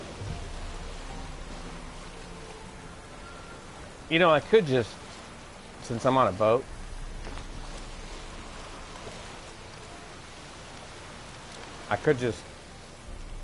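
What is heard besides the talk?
rain on a boat in the video game Witcher 3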